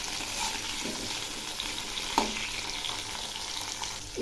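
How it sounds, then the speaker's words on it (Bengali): Sliced ridge gourd frying in oil tempered with nigella seeds, a steady close sizzle throughout with a few faint utensil taps, no voices. "এই ঝিঙ্গেগুলো খুব ভালো করে ভেজে নেব।"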